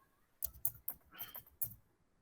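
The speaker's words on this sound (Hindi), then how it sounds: "या आपको जैसे कुछ भी टाइपिंग करनी है" Fingers tap out several quick, quiet keystrokes on a computer keyboard, a short irregular run of soft clicks heard close up, with no one talking.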